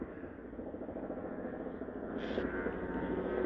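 A helicopter drones overhead, a low, steady engine and rotor rumble that grows slightly louder over a few seconds, faint and distant, with no one talking.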